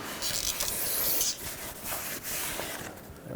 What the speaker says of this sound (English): go ahead and wipe these off with a clean rag and some brake parts cleaner